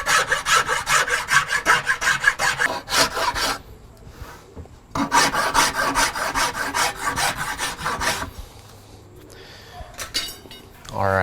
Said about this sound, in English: I'm gonna go ahead and just smooth these sides up a little bit with the fine side of my rasp